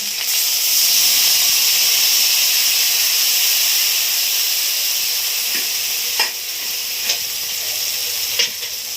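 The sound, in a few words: water coming to a boil in a cooking pot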